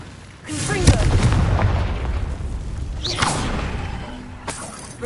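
Confringo fire spell blasting in Hogwarts Legacy, a booming explosive burst with whooshing bursts layered over a dense game soundscape, several impacts across a few seconds.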